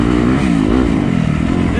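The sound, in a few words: Yamaha YZ250FX dirt bike engine revving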